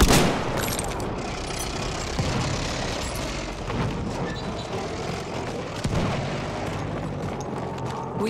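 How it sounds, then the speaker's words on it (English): Dense battlefield din from Battlefield 1, with sustained rapid gunfire and booming blasts rolling over one another for the whole stretch, including the rattle of an enemy machine gun somewhere in the mix and a sharper crack near the end. "That's an enemy machine gun."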